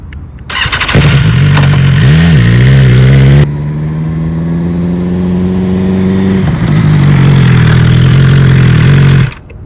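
A nearby motorcycle engine in second gear during hard braking stops, a loud rumble that rises and dips as the revs fall and pick up again, with no talk.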